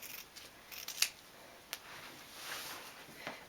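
Scissors cut through fabric for a face mask, giving a few soft, quiet snips and crisp clicks spaced irregularly against near silence.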